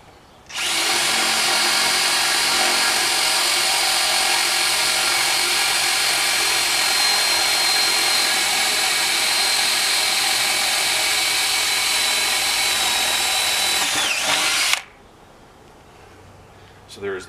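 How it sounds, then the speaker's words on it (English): A cordless power drill bores a hole through a wooden 2x4 while removing a fence post set in concrete, a loud, steady high whine lasting about fourteen seconds before stopping abruptly, followed by quiet handling sounds. "I can use the hole I just drilled in the board"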